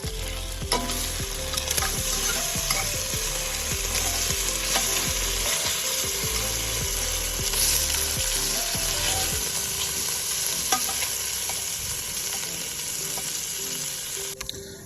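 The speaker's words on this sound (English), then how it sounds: "So first step, we got to cook down this chorizo." Chorizo cooks down in a pan on a PK grill, giving a loud, continuous close sizzle with crackling fat, punctuated by repeated scraping and stirring knocks, with no voices.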